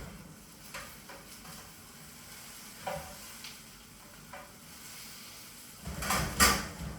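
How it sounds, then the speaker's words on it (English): A spoon stirs vegetable lasagne in a cooking pot, giving soft scattered scrapes and light clinks at first, then a louder burst of stirring near the end with a gentle sizzle underneath. "let's give it a quick stir"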